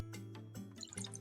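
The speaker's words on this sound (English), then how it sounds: "I'm going to pour a bit of our liquid here" Pressed juice pours into a container in a short, close, gentle liquid trickle with faint dripping. The sound is quiet and isolated.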